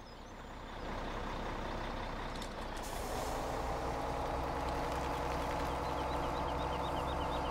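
A Mack truck in a farming video game idles with a low engine rumble, then a sharp air-brake hiss cuts in near three seconds before the engine settles into a steady, louder drone.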